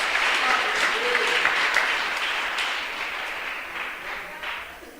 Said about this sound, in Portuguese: Você pode aplaudir o Deus eterno?